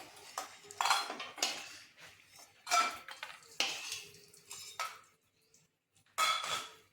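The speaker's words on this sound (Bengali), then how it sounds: "বড়িগুলো আমার ভাজা হয়ে গেছে, আমি এবার তুলে নিচ্ছি।" Fried bori lentil dumplings are lifted out of a pan of oil, giving several separate metallic clinks and scrapes of a utensil against the pan, close and moderately loud, with short quiet gaps between them.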